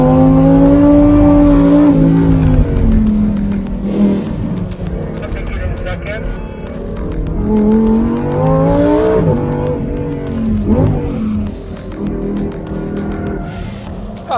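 Lamborghini Huracán STO engine roaring loud and near on a track hot lap, rising and falling through downshifts and braking, with tense talk over it.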